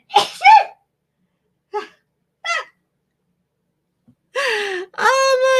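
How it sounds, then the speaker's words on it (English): A person sneezes indoors: a sharp sneeze, a few short breaths and gasps, then a second drawn-out sneeze with a voiced cry near the end. "Yeah, I'm going to have to sneeze."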